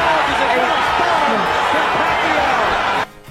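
A large crowd roars loud and continuous at a Pacquiao vs Barrera boxing fight, a dense sustained roar filling the arena that drops off suddenly near the end.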